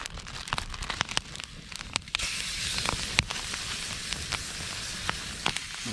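Deer meat frying in a pan, a steady soft sizzle with scattered sharp pops and crackles throughout, no voices.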